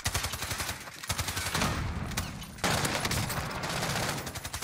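Rapid automatic bursts from an M13 rifle in the video game Warzone, dense crackling fire that runs almost continuously with brief pauses between strings of shots, loud and close.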